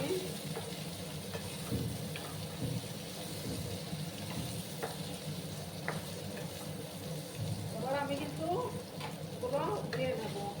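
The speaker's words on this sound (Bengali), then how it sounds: "এবার আমি ঢাকাটা সরিয়ে দিলাম ভাজা করে দিচ্ছি" Bottle gourd and potatoes fry in a pan with a steady, moderate sizzle and occasional stirring scrapes. Faint background noises and a brief voice-like sound come near the end.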